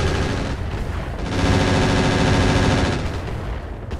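Mech weapons firing in Battletech Roguetech build into a loud, sustained roar of rapid shots and blasts, swelling midway and then easing off, heard alone.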